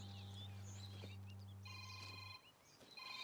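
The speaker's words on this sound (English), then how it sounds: "If you hear a ringtone..." A phone ringtone rings in a room at moderate distance, a steady electronic tone pattern repeating with a low hum underneath, then briefly breaking off before resuming.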